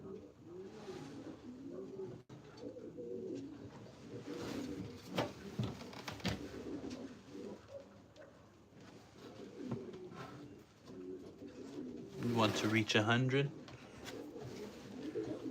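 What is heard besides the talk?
pigeons cooing in breeder loft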